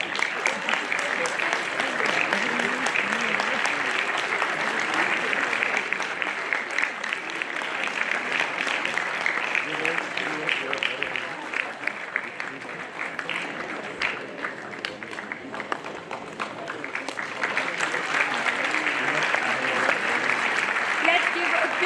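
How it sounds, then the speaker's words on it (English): Sustained audience applause at a school award ceremony for an inter-school English recitation trophy, dense steady clapping from a large crowd lasting throughout, dipping briefly midway before swelling again. "Let's give a big round of applause"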